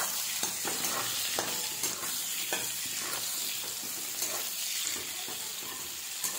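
Long-sliced onions frying over cumin in a pan, a continuous dense sizzle with regular stirring scrapes, close and steady, no one talking.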